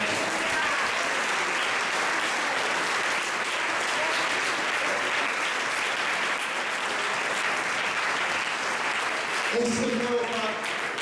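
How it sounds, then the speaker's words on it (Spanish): A church congregation claps together in sustained, dense applause that holds steady throughout, with a few voices rising near the end. "Damos un aplauso al Señor"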